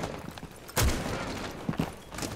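Gunfire during a Rainbow Six Siege match: one sharp, loud shot followed by a couple of quicker, lighter shots a moment later, all close and standing out over quiet game ambience.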